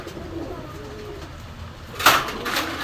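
A male Shirazi pigeon coos in a pigeon shop among Pakistani high-flying pigeons, a low, soft, rolling call under steady background noise, followed near the end by a louder, sharper burst of sound.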